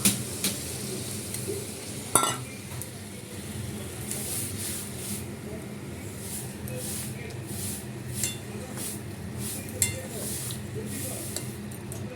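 Meat curry with caramelised sugar, poppy seed and cashew paste sizzles in a pan while being stirred, a soft continuous fry with repeated scraping strokes and occasional clinks, under a quiet voice.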